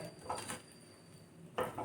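Utensil scraping and clinking against a pot while green pigeon pea kachori filling is stirred over low heat, a few soft scrapes spread across the moment with a sharper knock near the end.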